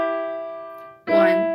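A third, E then G, played on a pitched instrument during a music lesson: one sustained tone rings and slowly fades, then a second note enters brightly near the end, close and clear with no talking.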